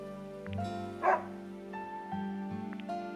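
A dog in the video game Another Code Recollection gives a few short, clear yips and barks over soft background music, with a brief louder bark near the middle and no talking.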